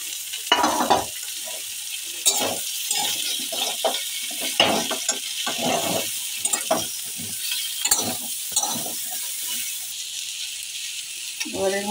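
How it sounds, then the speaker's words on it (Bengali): Potato and eggplant added to frying onion in a pan, sizzling steadily while a utensil stirs and scrapes in repeated strokes, close and fairly loud, with a voice talking over it. "এবার এর মধ্যে আমি আলু দিলাম, বেগুন দিলাম, সমস্ত উপকরণগুলো দিয়ে দিলাম"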